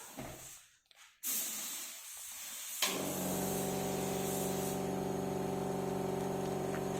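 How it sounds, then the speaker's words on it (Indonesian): Spray gun applying finish coat during melamine coating of wood, a steady close hiss that starts after a brief knock and continues evenly with a faint compressor hum underneath. "Ini proses penyemprotan lagi ya."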